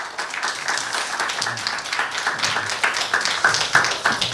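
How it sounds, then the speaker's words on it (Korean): Audience applause welcoming panelists onto the stage at a Christian humanities forum on biblical ecology and life theology, a steady dense patter of clapping through the whole stretch with a few sharper claps standing out near the end. "박수로 환영하겠습니다."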